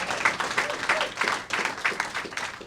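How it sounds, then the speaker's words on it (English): Town hall audience in South Carolina breaks into applause, a moderate crowd clapping steadily for a few seconds with faint voices mixed in. "We should clap for efficiency."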